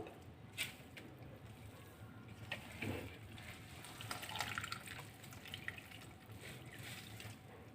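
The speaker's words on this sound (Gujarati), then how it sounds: "નીચેથી બધું પાણી છે એ બીજા બાઉલમાં જતું રહે છે" Faint trickling and dribbling of water draining from squeezed grated potato into a bowl over a steady low background hiss, with a few small splashes.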